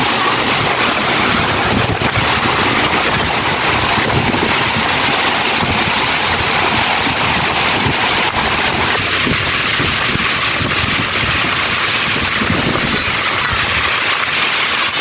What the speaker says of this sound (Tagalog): Ganyan, kalakas yung habagat.